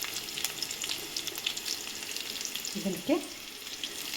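Curry leaves and red Guntur chilies sizzle and crackle steadily in hot oil in a pan, with a brief louder burst of frying near the end and a single short spoken word.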